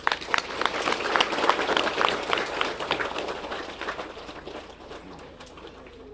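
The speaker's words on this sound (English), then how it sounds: "Give a big round of applause." An audience at a school event in Odisha applauds, clapping strongly at first and then thinning and fading toward the end.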